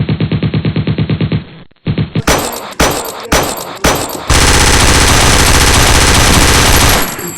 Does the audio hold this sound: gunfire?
yes